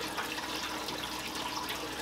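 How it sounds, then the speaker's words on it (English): Water pumped through a valve and hose pours out into the last chamber of a seamless sump, a steady close rushing splash with no voices. "That's the water coming from the pump through the valve, through the hose, and now coming out and filling out this last chamber"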